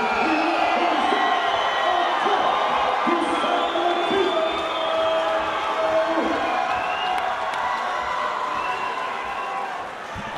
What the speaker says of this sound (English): think I just lost brain cells from the roar of that crowd